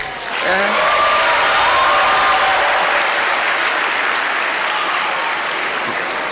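Dense, sustained audience applause fills a university graduation ceremony at Ahmadu Bello University. The clapping is loud and steady throughout, with no speech over it.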